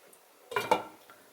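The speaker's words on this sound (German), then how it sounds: "Jetzt tun wir den Deckel hier." A lid is set onto a cooking pot of potato and bean stew, giving a brief, faint metallic clink and rattle in an otherwise quiet kitchen.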